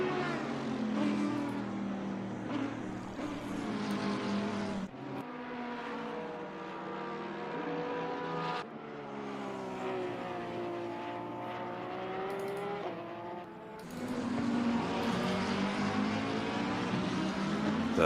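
GT race cars in a sim racing game at Zandvoort sweep past one after another. Their engines rise and fall in pitch with each pass, a run of close, loud passes separated by brief shifts in the engine note.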